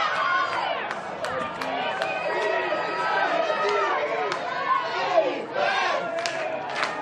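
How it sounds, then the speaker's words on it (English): Crowd noise at a San Francisco Dogfish home game against the Vancouver Nighthawks, a dense, steady roar of many voices with shouts rising and falling throughout. "Crowd chanting defense, really trying to get their Dogfish up"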